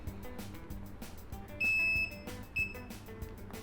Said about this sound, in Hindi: जो बीप साउंड है वो भी बज रहा है, तो मुझे इसकी कंटिन्यूटी मिल रही है